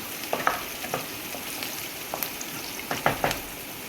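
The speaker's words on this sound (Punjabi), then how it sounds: "ਲਸਣ ਨੂੰ ਆਪਾਂ ਥੋੜੀ ਰੱਖ ਕੇ ਭੁੰਨ ਲੈਂਦੇ ਆ ਪਹਿਲਾਂ" Garlic frying in a pan for aloo palak, a soft steady sizzle with a few crackling pops and faint stirring scrapes, close and unaccompanied by speech.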